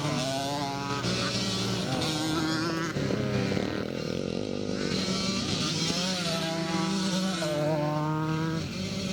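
Several 1974 classic and Twin Shock 125 scramble motorcycles race past on a dirt course, their two-stroke engines whining and revving in overlapping rising and falling tones at a moderate distance, with faint commentary underneath.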